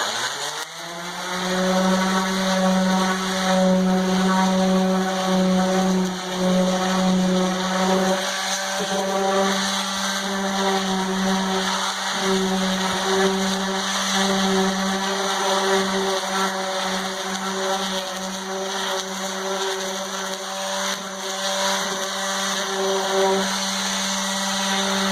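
A power sander works on wooden kitchen cabinets with a steady, loud electric whine that spins up at the start, then holds a constant pitch near the microphone with slight dips as it presses against the wood.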